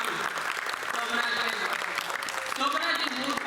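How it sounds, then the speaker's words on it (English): Audience at a community annual day celebration giving a round of applause for two couples, a dense, continuous clapping crowd with faint voices mixed in. "can you please give a round of applause for both couples?"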